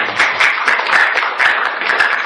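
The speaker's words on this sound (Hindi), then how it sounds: "ताली बजाइए" An audience at a youth yoga lecture breaks into applause, a loud, dense patter of many hands clapping steadily for a couple of seconds with no voices over it.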